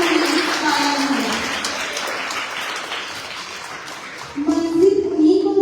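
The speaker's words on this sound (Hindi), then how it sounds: "एक बार जोरदार तालियां बजा दे" Applause from an audience at a school sweater-distribution event, moderate and somewhat distant, running under music and a voice, then a louder tonal passage rises near the end.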